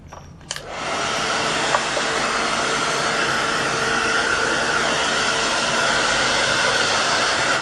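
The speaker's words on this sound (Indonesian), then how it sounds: "kita bersihkan menggunakan hair dryer" A hair dryer blows steadily to clean a Yamaha DD-75 drum pad during repair, starting with a click and then a loud, continuous close-up rushing roar with no talking.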